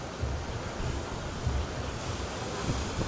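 Sea waves near a ferry crossing off Cancun toward Cozumel roll and wash continuously, with strong wind buffeting the microphone.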